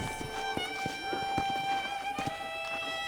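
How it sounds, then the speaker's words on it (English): Rhythmic hoofbeats of a horse galloping in the video game Red Dead Redemption, steady thuds over a constant background music-like drone, fairly close. "let's see if you can still ride a horse"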